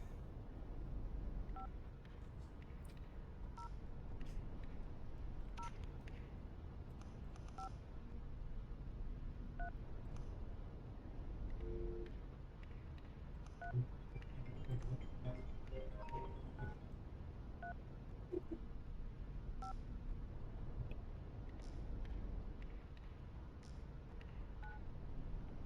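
Touch-tone telephone dialing beeps ring out in bursts over a steady electronic hum during a network puzzle game, with no one talking.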